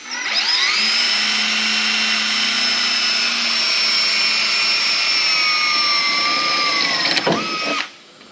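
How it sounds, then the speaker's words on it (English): A power drill bores holes through rusty car body sheet metal during a rust repair, giving a steady, loud whine that holds for about seven seconds before winding down and stopping. "So I drill holes with this."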